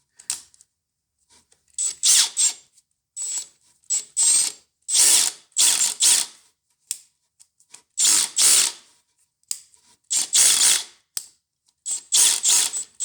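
A Makita DHP486 cordless drill in hammer mode runs in repeated short bursts of rapid, harsh hammering clatter, each burst a second or so long and separated by brief silences, loud and close.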